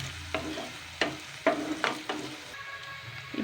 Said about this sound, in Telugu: చిన్న సైజు ఆనియన్ అండి, ఉల్లిగడ్డ ముక్కలు పొడవుగా కట్ చేసి వేసుకోవాలి.